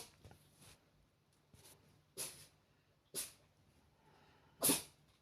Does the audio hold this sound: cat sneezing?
yes